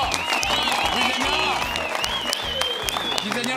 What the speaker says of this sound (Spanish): aplauso para el Banoffee, para quien lo inventó